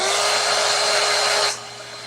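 A hair dryer blows a steady, loud whine over paper freshly sprayed with colour, running continuously close by for about a second and a half before it cuts off and leaves a faint hum.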